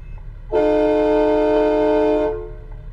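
A loud, sustained car horn blares for about two seconds in a driving video game, honked at a Mercedes blocking the road.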